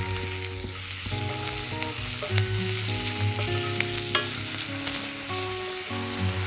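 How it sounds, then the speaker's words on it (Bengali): Chopped tomato frying in a pan while being stirred, a steady close sizzle with scraping stir strokes throughout, no talking. "সেই টমেটোটাকে আমরা দিয়ে দেব। এটাকে আমরা একটু ভেজে নিতে হবে।"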